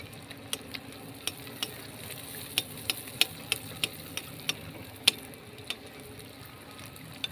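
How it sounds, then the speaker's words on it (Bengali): Bottle gourd poa pitha batter fries in hot oil over a medium gas flame, giving sparse, sharp crackles and pops over a low steady hiss, with no talking. "ওই গরম তেলের মধ্যে দিয়ে দিচ্ছি। গ্যাসের ফ্লেমটাকে মিডিয়ামে রাখবো"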